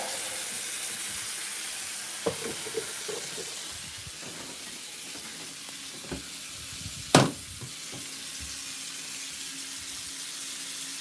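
Leftover Christmas rib reheating in a pan, giving a steady soft sizzle across the whole stretch, with a few faint clinks and one sharp utensil knock near the middle; no talking.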